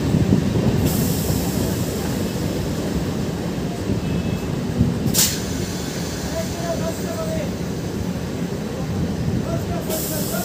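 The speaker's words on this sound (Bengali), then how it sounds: "আমাদের ট্রেন এসে পৌঁছালো ময়ূরহাট হল্ট স্টেশনে" A Ranaghat–Gede local train pulls into Mayurhat Halt station, with a loud, steady rumble of carriages and wheels, faint squeals and sharp metallic bangs, and voices talking under the din.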